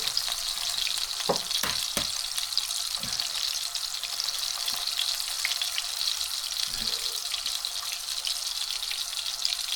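Eggs frying in a pan give a steady, bright sizzle with a few soft clicks and knocks near the start, close and continuous, with no talk.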